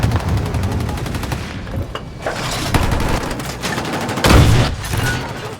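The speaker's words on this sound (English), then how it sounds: "I fire random shots to flush them out" Rapid gunfire rattles in the Battlefield video game, with bursts of machine-gun and rifle shots fired to flush out enemies. It is loud and near, with a heavier boom toward the end and no talk.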